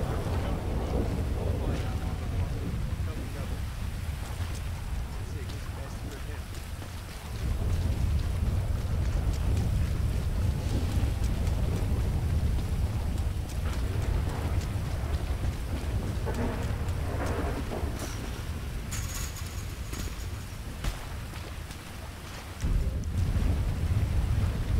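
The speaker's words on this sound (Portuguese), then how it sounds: "Chuva, tempestade não para, maluco." Steady rain and thunderstorm ambience in the video game GTA 5, a continuous loud wash of rainfall with deep rumbling thunder swelling through most of it and brief lulls, no talking.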